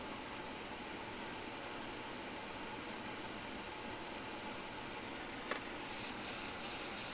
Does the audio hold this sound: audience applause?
no